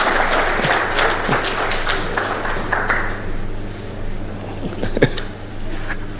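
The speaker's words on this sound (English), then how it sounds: "A round of applause for the former Prime Minister." Applause for former Prime Minister Raila Odinga at a summit gathering: a crowd clapping strongly at first, then thinning out to scattered claps, with a steady hum underneath and a few faint clinks.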